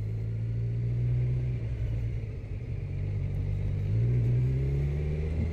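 A Suzuki Bandit motorcycle engine idles and revs in a steady low rumble, rising in two swells of acceleration with a slightly popping, uneven exhaust note, close and continuous throughout.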